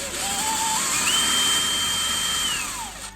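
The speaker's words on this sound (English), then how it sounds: "drill through." A power drill bores through a wooden block while kitchen units are built for a VW T4 van. The motor spins up in rising pitch, holds a steady loud whine, then winds down at the end.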